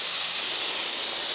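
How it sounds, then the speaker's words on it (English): A spray gun set to low pressure sprays Liquid Concepts activator, producing a loud, close, continuous airy hiss that holds steady throughout. "spray our activator just like that"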